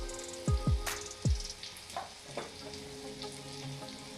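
Brain curry simmers and fries in a pan as garam masala goes in, giving a soft, quiet sizzle with a few low spoon knocks and scrapes early on, and no talking.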